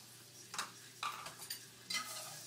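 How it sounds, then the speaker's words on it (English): Flour being stirred into melted butter in a pan, a few soft scraping strokes at intervals over a low steady background, fairly quiet, with no talking. "I'm going to make sure that's thoroughly mixed"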